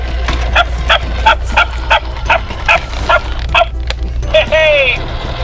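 A walking toy dog from a pet toy line gives a steady run of short electronic yaps, about ten evenly spaced barks close by, ending with a rising squeaky whine.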